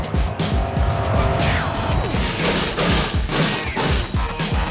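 Loud racing trucks roar past at Texas Motorplex in a continuous rush, with tires squealing and skidding amid the din of heavy vehicles running flat out.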